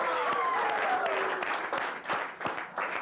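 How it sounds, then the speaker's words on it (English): A studio audience applauds a martial arts team on a late-night show, with sustained close clapping that thins and comes in uneven bursts toward the end. "so give them a nice applause."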